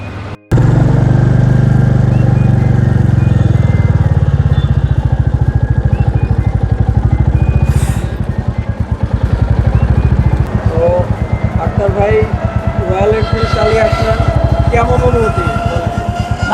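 A Royal Enfield Classic 350cc motorcycle engine runs close and loud, a steady thumping single-cylinder beat that carries on throughout, with a rider talking over it.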